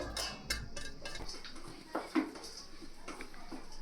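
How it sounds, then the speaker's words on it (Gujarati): Potato cutlet mixture with soaked poha being mixed by hand in a bowl, giving faint, scattered taps, clinks and soft squishing at close range, with no talking. "હવે આ બધા મિશ્રણને આપણે મિક્સ કરી લેશું"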